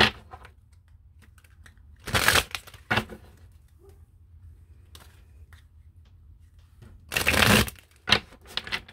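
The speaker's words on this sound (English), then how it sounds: "I'm going to pull some cards for the Divine Feminine." Tarot cards being shuffled in two quick riffling bursts, close and fairly loud, with a few light card taps and handling sounds between them in an otherwise quiet room.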